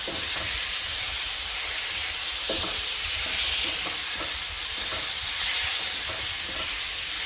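Shrimp hitting hot olive oil in a pot, a continuous loud sizzle and hiss with occasional stirring knocks, steady throughout.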